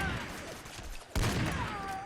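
A CS-LR4 sniper rifle fires unsuppressed in Fallout 4, a sharp, loud shot with a booming tail about midway through, following a quieter stretch of game ambience.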